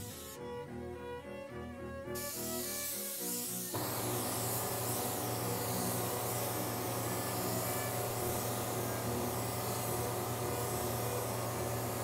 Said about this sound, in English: I mostly was guessing at overlapping the paint while spraying